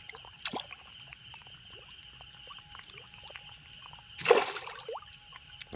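Fish splash the water as they are fed at night in a village pond, with one loud splash burst near the end over steady insect and frog chorus.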